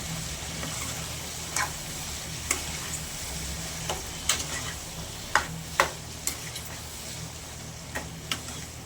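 Tomatoes for an old-style tomato pickle simmer in a pan, giving a soft, steady cooking hiss broken by scattered sharp ticks and pops from bubbling and spatter, with no talking.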